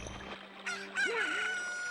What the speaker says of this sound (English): a chicken hatched from the egg you were incubating